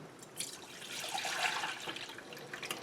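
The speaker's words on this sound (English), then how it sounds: "And I'm going to pour this in this container." Powdered milk dissolved in warm water is poured into a container, a soft continuous liquid splashing and trickling, faint and close, ending with a slightly louder splash.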